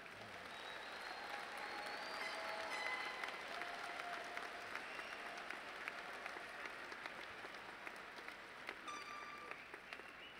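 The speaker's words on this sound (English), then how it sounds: "A round of applause for these graduates." Steady, even applause fills a large hall at a university summer commencement for the graduates, sustained throughout with scattered faint cheers mixed in.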